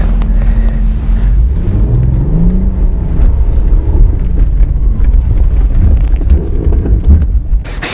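A 2007 Audi A4 B7 with the 3.2-litre engine accelerates hard, giving a loud, steady, low-pitched roar with rising engine pitch that fills the whole stretch, with no talk over it.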